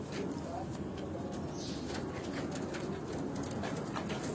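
Breeder pigeons cooing softly in a loft, faint low murmurs under a steady broadband hiss with scattered chirps, no clear voices in the foreground.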